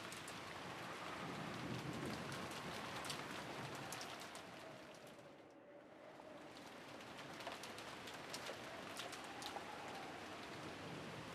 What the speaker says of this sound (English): Yeah, it's raining real hard.